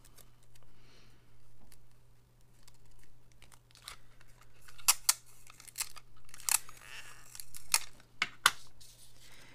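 Close, quiet handling sounds while making a paper card: crinkling and sharp tearing of sticky tape in several short bursts, with light tapping as it is pressed down.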